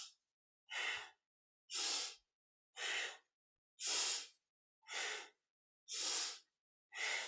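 Rhythmic breathing during a Kundalini yoga spine warm-up, eight strong, even breaths spaced about a second apart, each a loud airy rush separated by silence, close up with no talk.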